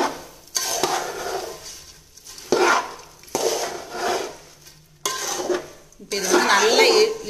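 Flattened rice snack (aval pori) stirred in a pan gives repeated close scraping and rustling sweeps in separate bursts, with some talking between them.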